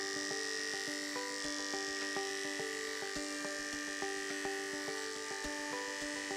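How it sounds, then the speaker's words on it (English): An electric hair clipper hums with a steady, close buzz as it cuts dry to semi-damp hair in a barber shop, with faint rhythmic ticks running through the whole stretch. "I'm cutting the hair dry to semi-damp, so the hair feeds into the clipper better"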